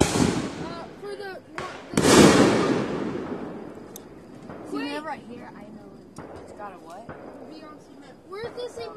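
Fourth of July fireworks go off outdoors, a few sharp bursts with booming, crackling tails, the loudest near the start, while people talk and exclaim over them.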